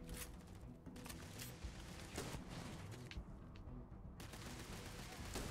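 Shotgun blasts and gunfire in a Starfield firefight, a rapid run of sharp shots and bursts scattered across the stretch, fairly faint in the mix, with a brief lull near the end.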